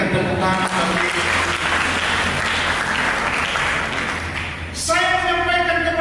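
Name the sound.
audience applause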